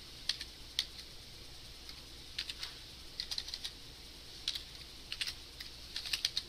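Quiet, irregular bursts of computer keyboard typing as HTML code is written during a client/server scripting lecture, with short clusters of key clicks separated by brief pauses.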